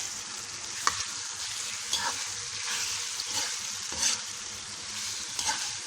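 Vegetables with aubergine fry and sizzle steadily in a pan while a utensil stirs them, with several scraping knocks against the pan, close and fairly quiet.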